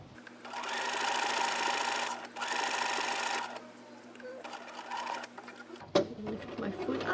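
A sewing machine stitches a book cover in two steady bursts, followed by slower intermittent stitching and handling clicks as the presser foot is lifted, close and alone.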